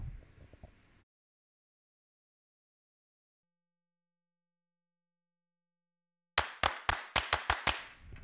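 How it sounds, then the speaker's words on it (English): A series of sharp, evenly spaced electronic drum-machine claps from an Addictive Drums kit, triggered in Ableton after a short burst of other sound and a long silence; crisp, loud and dry. "I'm going to want to be able to trigger a clap sound"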